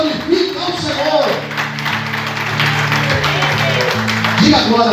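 Church congregation clapping and cheering during a worship service, a sustained wash of applause with loud voices and sung tones over it.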